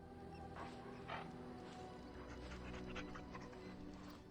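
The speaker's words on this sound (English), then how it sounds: "Cute puppy." A dog pants in quick, rhythmic breaths with a faint whimper in Dragon Age Origins, soft and close, with no talking.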